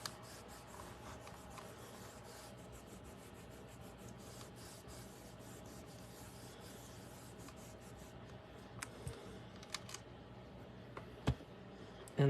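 A rubber stamp is pressed and rubbed firmly onto card, giving a faint, steady scratchy rubbing close by, ending with a few sharp taps and knocks.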